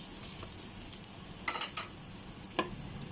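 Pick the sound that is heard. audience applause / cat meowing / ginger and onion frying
ginger and onion frying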